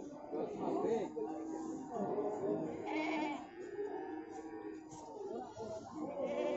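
Etawah goats of the Kaligesing breed bleat repeatedly on a farm, wavering calls rising one after another at moderate distance, with someone talking among them.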